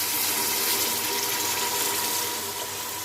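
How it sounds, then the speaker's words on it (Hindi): Steady rushing gush of water poured into a pressure cooker during cooking, holding at a constant level for a few seconds with a slight drop near the end and no speech. "बस इतना सा पानी डाल के ना"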